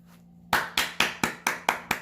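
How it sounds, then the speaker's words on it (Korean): Seven quick, sharp hand claps, evenly spaced and close, follow a brief quiet hum in a room, a short burst of applause with no talk over it. "박수."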